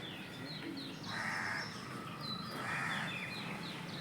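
Crows caw twice in separate, evenly spaced calls, moderately close, with faint chirps from other birds in the background.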